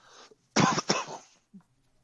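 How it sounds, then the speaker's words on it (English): A single harsh COVID cough burst near the microphone, with a short throat sound just before and a faint breath after, otherwise quiet. "It's a COVID cough."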